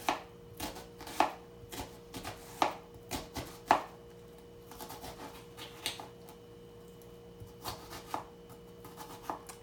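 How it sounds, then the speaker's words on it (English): A knife chopping an onion on a cutting board for pico de gallo, a series of crisp close taps in quick irregular bursts, then sparser cuts, in a quiet kitchen. "you'll begin by cutting your onion. You will do horizontal lines throughout your onion."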